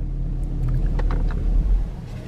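A 2021 Chevy Camaro LT1 RS engine gives a deep, low rumble close by, settling as it powers down, with a few faint clicks over the steady drone.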